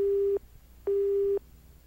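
Phone busy signal in the video game Tokimeki Memorial 2: two long, steady electronic tones separated by a short gap, clear and alone.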